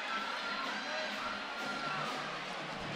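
A crowd murmurs and cheers at a high school boys basketball game in Firebird Gym, Lakota West against Lakota East, a steady, reverberant roar of many voices filling the hall at moderate distance.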